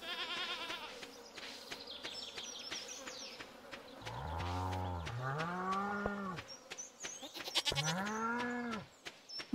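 A goat in Stardew Valley lets out several drawn-out, wavering bleats, one after another, over a faint buzzing, chirpy game background, with no one talking.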